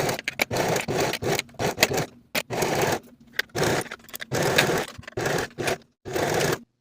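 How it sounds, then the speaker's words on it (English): Serger stitching seams through all layers of a knit cardigan, 3/8-inch seam allowance, in short bursts of rapid whirring separated by brief pauses, close and fairly loud with no talking. "Now I'll serge both of these seams through all layers."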